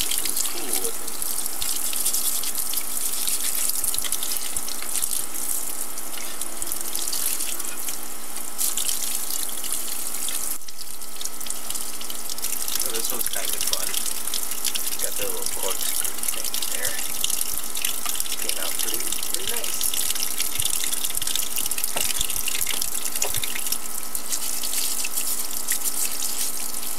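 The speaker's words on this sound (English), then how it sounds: "Just use a toothbrush and a little water here. Water does quite a bit to clean off all the sand." Running tap water splashes steadily as plaster of Paris castings are rinsed and scrubbed with a toothbrush to clear off sand, a continuous close hiss with faint scrubbing and dripping, briefly interrupted once.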